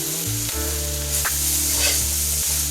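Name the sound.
collard greens simmering in a skillet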